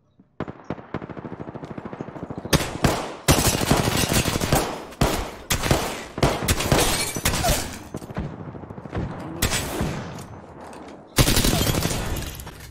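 Rapid bursts of gunfire in the battle royale video game Apex Legends, loud repeated volleys separated by brief pauses, with the final burst hitting hardest.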